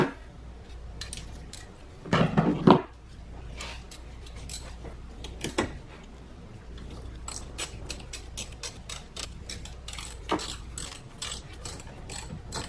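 A ratchet clicks in short bursts while tightening a battery terminal on a Volkswagen, close and fairly quiet, with a louder clattering burst near the start and scattered sharp ticks afterward.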